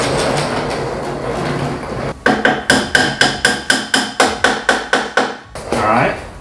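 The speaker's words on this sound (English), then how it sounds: "You guys can actually hammer on the side." A hammer strikes the side of a Winsome Suzanne space-saver kitchen table part during assembly, a run of about fifteen sharp, evenly spaced knocks up close after a stretch of quieter handling noise.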